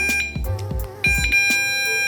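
A Ravemen bike light's remote-triggered horn gives several short electronic honks in an uneven pattern, loud and near, with ringing tonal tails and no speech.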